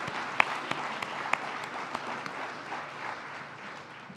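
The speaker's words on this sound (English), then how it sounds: "That deserves a round of applause." An audience at an awards program applauds an honored potter, steady crowd clapping with a few sharp nearby claps standing out, moderately loud and fading slightly toward the end.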